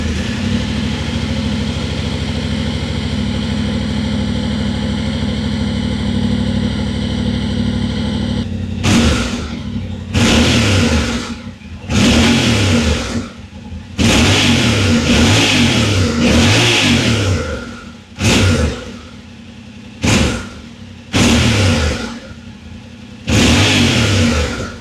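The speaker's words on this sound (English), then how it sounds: "I actually really love the sound of this exhaust." A Yamaha Tenere 700 with its CP2 twin engine idles steadily through its exhaust, then bursts into a series of sharp, loud revs that rise and drop back repeatedly, close and alone.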